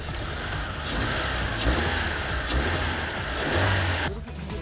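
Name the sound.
car engine revving during test drive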